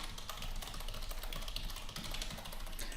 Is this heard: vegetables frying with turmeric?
no